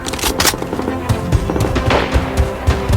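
Gunfire in the shooter video game Blood Strike, rapid bursts of shots in quick rhythm, loud and close, with game sounds around them.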